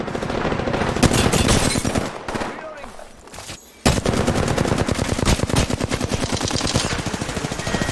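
Automatic weapon fire in the video game Apex Legends, with rapid loud bursts that fill most of the stretch, break off briefly in the middle and then resume in a steady close rattle.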